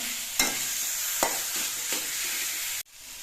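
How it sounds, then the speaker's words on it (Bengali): Olives fried on a low gas flame are stirred in a pan, a steady soft sizzle broken by a few sharp scraping strokes of the spoon before the sound cuts off abruptly. "কিছুক্ষণ নাড়াচাড়া করে জলপাইগুলো ভেজে নিতে হবে"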